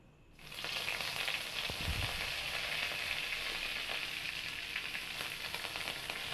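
Curry leaves dropped into hot oil, likely while preparing Mughlai paratha in a home kitchen, set off a loud, steady sizzle that holds close up and unbroken after a quiet start, with no talking.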